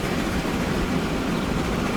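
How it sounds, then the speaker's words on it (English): Steady low rumble of a train arriving in the video game Transport Fever 2, continuous and fairly loud with no pauses or voices. "Here comes the train."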